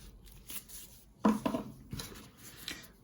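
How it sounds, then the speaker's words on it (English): Epoxy glue being stirred for a Thorens turntable dustcover repair: brief scraping and tapping bursts, loudest in a cluster near the middle, then quieter intermittent scrapes over a low background. "We're just going to mix the epoxy."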